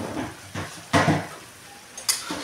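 A utensil scrapes and knocks against a pan while potato curry with hing, tomato and salt is stirred, a few separate clinks and scrapes with short pauses between them, close and fairly loud.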